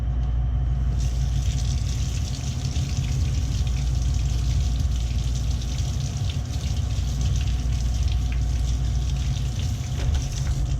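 A red pepper being rinsed under a running tap, a continuous loud rush of water with a broad steady hiss and low rumble, no talking.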